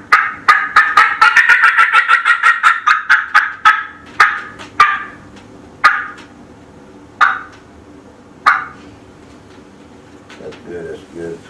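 A turkey call imitates a fly down cackle: a fast run of sharp, close clucks that gradually slows and spaces out into a few isolated notes, ending with a soft purring sound.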